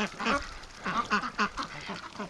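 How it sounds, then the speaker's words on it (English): Ducks on a muddy winter farm quack in a rapid run of nasal calls, several birds close by, with short gaps between the bursts. "Ducks love mud."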